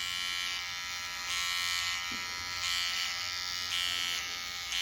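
Electric hair clippers buzz steadily and close while trimming and sharpening a hairline edge, the tone shifting slightly in pitch as the blades meet hair, with no talk.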